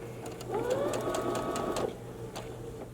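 Sewing machine stitching straight across the diagonal of a fabric placemat, a brief steady mechanical whir of about a second and a half between quiet handling sounds.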